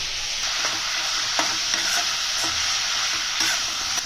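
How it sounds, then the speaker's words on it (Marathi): Tender jackfruit pieces frying in hot oil over high flame, giving a loud, continuous close sizzle with a few faint stirring clicks scattered through, no voices. "तो सरसर आवाज येताना ना तो कमी झालो की आपले फणसाचे तुकडे तळून जाईल"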